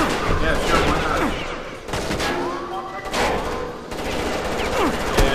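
Grenade launcher fire and explosions in the video game Far Cry Instincts, a dense run of blasts and gunfire that keeps going across the whole stretch, loud and close, with brief lulls between bursts.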